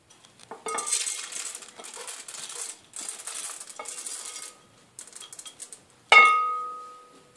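A spoon clinks and scrapes in a pot while chocolate chips are stirred into hot liquid for a hazelnut-chocolate spread. The scraping comes in uneven bursts, and a sharp ringing clink near the end dies away slowly.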